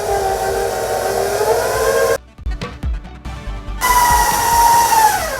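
An electric mixer on low speed beats shortening and powdered sugar into vegan buttercream, a steady motor whine that drops out briefly to a few clicks and knocks, then resumes with a rising, shifting pitch.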